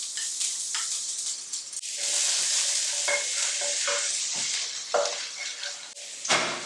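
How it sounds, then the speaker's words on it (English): Garlic hits a hot pan with chicken drippings and sizzles steadily for several seconds, with occasional stirring scrapes and brief bursts rising above the continuous frying hiss. "in goes our garlic"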